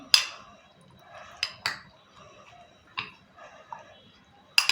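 Omelette eggs being stirred and mixed in a bowl give soft, scattered clinks and taps of the utensil against the dish, a handful of quiet, close knocks spread unevenly over a hushed background.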